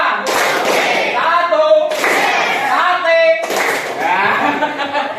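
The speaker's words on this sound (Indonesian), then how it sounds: "tepuk 1, tepuk 2, tepuk 3" Classroom students clap in a counted pattern, three bursts of rhythmic hand claps with voices chanting and talking throughout.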